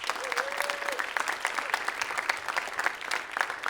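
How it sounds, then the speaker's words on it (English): An audience at a school writers' week event gives a round of applause, many hands clapping steadily at moderate distance, with a faint voice briefly rising through it near the start. "So one more time, round of applause"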